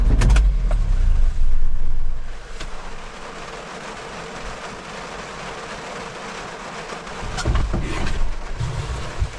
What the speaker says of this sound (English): whenever I drive the mini truck up here, the farm truck